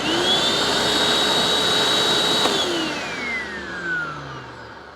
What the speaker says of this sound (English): Brush roll obviously spins in the reclined position.